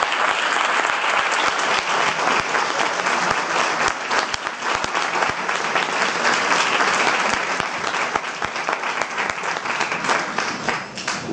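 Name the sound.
audience applause for a speaker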